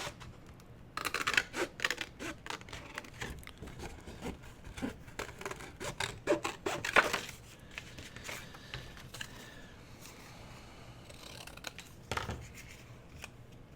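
Scissors cutting out a paper image for a large envelope pocket craft project, repeated close crisp snips and rustling paper in an irregular rhythm, thinning out toward the end, with no voices.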